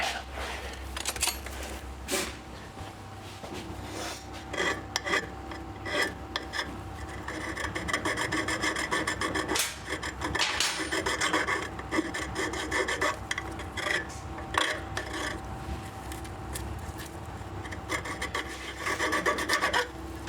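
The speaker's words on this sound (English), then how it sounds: "let's deburr that" A hand file rasps back and forth to deburr a Harley bag guard part, in steady rough strokes that repeat close and loud for the whole stretch, with no talking over it.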